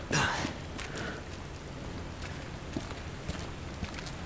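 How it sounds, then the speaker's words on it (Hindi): Steady rain falls in Resident Evil 2 Remake, a faint continuous hiss with occasional soft taps and footsteps under quiet game ambience. "बारिश भी हो रही है"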